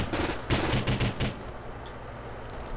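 Automatic gunfire in the Conflict: Global Terror shooter game, several loud, close bursts of rapid shots in the first second and a half, then fading to a quieter background with only faint distant sounds.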